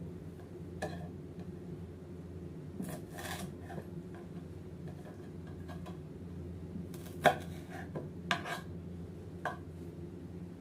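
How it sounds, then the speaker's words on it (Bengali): Green chillies are slit with a knife on a cutting board, giving faint, scattered taps and a few sharper knocks over quiet room hum, without speech. "এরপর কাঁচামরিচগুলো মাঝখান দিয়ে একটু চিড়ে দিতে হবে, ঠিক এইভাবে।"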